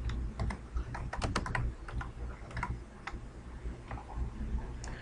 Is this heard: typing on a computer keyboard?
yes